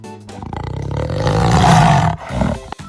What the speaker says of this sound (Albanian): Panthera.